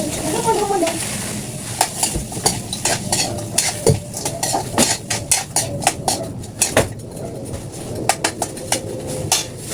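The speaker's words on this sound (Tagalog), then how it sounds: "Pag tunaw na yung butter, isunod natin ng mixed veggies" Mixed vegetables fry in melted butter while a spoon stirs and scrapes the pan, giving repeated clanks and scrapes over steady sizzle, with people talking in the background.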